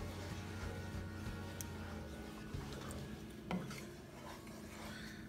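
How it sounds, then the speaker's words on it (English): Butter chicken sauce being stirred in a pan over a very low flame: soft, steady scraping and a gentle simmer, with one louder clink of a utensil against the pan partway through. "stir it on very slow flame so it gets nice and thick"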